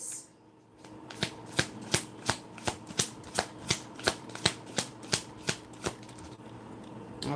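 Tarot cards shuffled by hand in a quiet room, a steady run of about fifteen crisp riffling snaps spaced evenly, close and clear with no talk.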